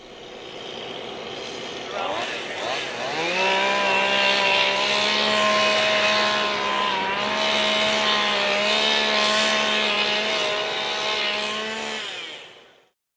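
A motorized brush cutter clears vegetation along a railway line with a loud, steady, close engine whine that holds its pitch for several seconds before cutting off.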